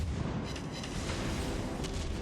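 Secondary guns on the USS Pensacola warship firing in a naval battle game, a dense, continuous rumble of distant booms and blasts with no talk over it.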